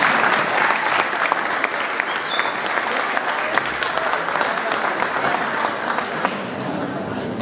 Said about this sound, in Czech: můžete klidně i zatleskat